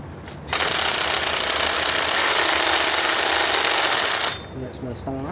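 Cordless screwdriver drill running at speed 1, a loud steady high-pitched whine starting abruptly after half a second and cutting off near four seconds, followed by brief talking.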